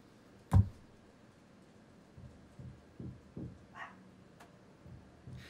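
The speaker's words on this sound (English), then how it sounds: "I just had the dog keep fucking barking." A dog barks in a few short, separate bursts: one loud, close bark near the start, then fainter, scattered barks at moderate distance over a quiet indoor background.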